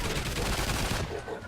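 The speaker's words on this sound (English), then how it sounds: "And just aim it right at the hive and shoot" Rapid, continuous turret gunfire in the Call of Duty Ghosts Extinction game, aimed at an alien hive, loud and dense for over a second before cutting off.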